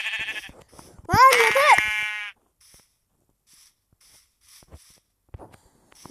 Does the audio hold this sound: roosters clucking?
no